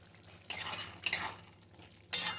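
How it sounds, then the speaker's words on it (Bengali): Ghugni getting a sprinkle of garam masala and being stirred in a pan, with three bursts of scraping and stirring separated by quieter pauses, close and fairly soft, no talking. "এবার আমি দিয়ে দেবো একটু গরম মশলা"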